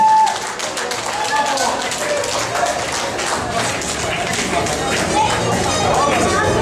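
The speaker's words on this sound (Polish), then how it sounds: "Wielkie brawa." Wedding guests applaud a couple during reception games, a loud, steady wash of clapping from a crowd that fills the whole stretch with a busy murmur underneath.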